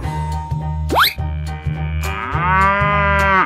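A cow moos twice over a repeating bouncy musical backing, the second low bellow long and drawn out, loud and close, in a children's animal video with paint and animals.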